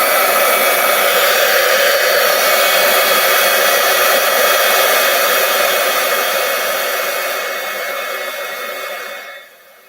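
A heat tool blows a steady, loud, hissing roar as it melts embossing powder on a card, running alone and then tapering off before cutting out at the end.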